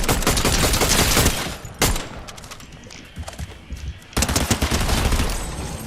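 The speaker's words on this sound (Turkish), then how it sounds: "bana mı sıkıyor?" Rapid gunfire in the Fortnite video game, loud and dense bursts of shots in quick succession that dip briefly in the middle before another heavy volley.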